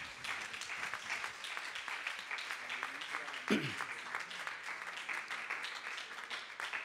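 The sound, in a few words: applause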